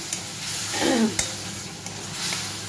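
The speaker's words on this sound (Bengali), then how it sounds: "আবার জল দিয়ে দিয়ে আমি মশলাটা কষিয়ে নেব বন্ধুরা" Masala spices sautéing in a pan with added water, giving a soft continuous sizzle with a brief stirring scrape, close and fairly quiet.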